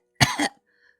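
An older woman coughs hard after a grilled mackerel bone lodges in her throat: a single loud, harsh choking cough burst of two strained pulses, then near silence.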